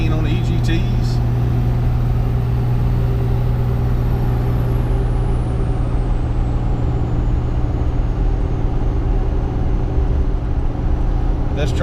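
A Ram 2500 pickup with a 5.9 Cummins diesel and 48RE automatic, towing 20,000 pounds, drones steadily and loudly under load throughout, with a constant low engine rumble and road noise.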